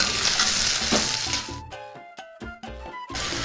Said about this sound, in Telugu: ఇందులోనే పచ్చిమిర్చి ముక్కలు వేసేసుకుందాం. వీటిని కూడా బాగా కలుపుకుందాం.